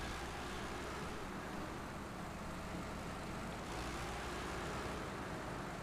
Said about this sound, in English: I'm glad I turned down the engine sounds.